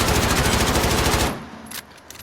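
Full-auto gunfire from the Loudout video game, a rapid unbroken burst emptying a whole magazine, loud and close, cutting off abruptly after about 1.3 seconds into quieter room tone with a couple of faint clicks.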